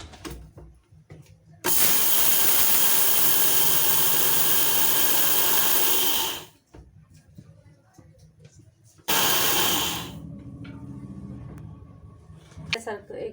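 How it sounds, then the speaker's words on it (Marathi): An electric mixer grinder grinds grain into a coarse meal in two loud, steady bursts, the first about five seconds and the second shorter, with a sharp start and stop to each. A voice talks quietly in the pauses between them. "तर हे बघा बारीक करून घेते मी मिक्सरला"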